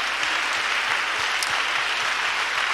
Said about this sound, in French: applaudit très fort le Seigneur Jésus